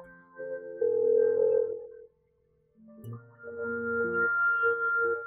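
A steady electronic ringback tone plays in two long bursts with a short pause between, clear and unanswered.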